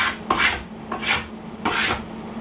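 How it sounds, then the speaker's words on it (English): Dried glue is scraped off a wooden surface in three loud, rasping strokes, each a rough close scrape separated by brief pauses. "If you let the glue sit too long, it is really hard to scrape off."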